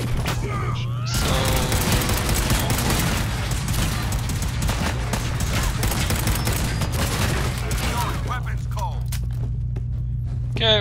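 Gunfire in Fallout 4: a loud, sustained volley of rapid shots and thuds over a steady low hum. It starts abruptly after a brief lull and eases off near the end.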